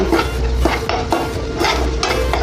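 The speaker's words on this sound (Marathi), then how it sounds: "मसाला असा छान परतून घ्यायचा आपल्याला" Masala sautéing and being stirred in hot oil for a spiced cluster bean (gavar) dish, with a steady close sizzle and repeated scraping strokes of a spoon in the pan, no voices.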